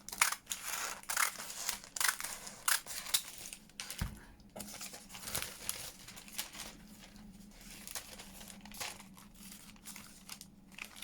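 Scissors snip through paper while cutting pieces for a scrappy collage junk journal booklet, giving a run of close, crisp cuts and crinkles, quite faint, with no talking.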